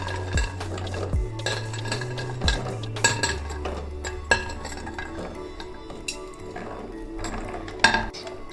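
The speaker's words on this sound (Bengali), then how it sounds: "এইবার নিকুদিগুলো 5 মিনিট রাখার পর আমি দিয়ে দিচ্ছি রসের মধ্যে।" Nikuti sweets are dropped one by one into sugar syrup in a pot, giving a series of close clinks and taps of a utensil against metal with soft splashes between, no speech.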